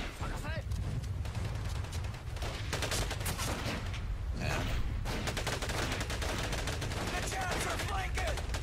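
Rifle and other gunfire in the World War II shooter Medal of Honor: Pacific Assault, dense rattling volleys and bursts throughout with someone talking over much of it.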